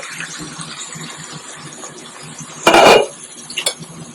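A lid is set onto a pot of prawn pulao after the gas is switched off, giving one loud metallic clang followed moments later by a lighter clink, over a soft kitchen background.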